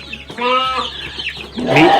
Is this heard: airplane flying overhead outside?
no